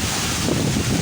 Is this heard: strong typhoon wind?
yes